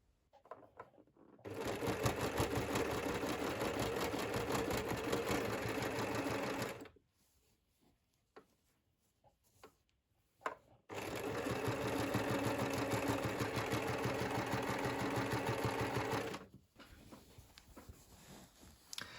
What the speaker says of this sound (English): we're going to get started by sewing on these on the sides here